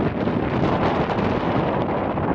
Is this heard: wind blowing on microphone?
yes